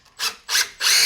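A power drill drives screws into a wooden door frame in three short whirring bursts, each spinning up loud and close, the last one longer.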